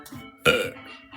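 A young woman lets out a single short, loud burp from close by, with quiet room sound around it.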